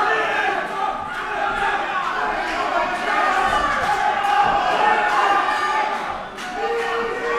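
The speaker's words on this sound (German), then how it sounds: "Erkan jetzt angefeuert vom Publikum." A kickboxing championship crowd roars steadily in support of fighter Erkan, loud and sustained throughout, with thuds from the ring and a commentator talking over the noise.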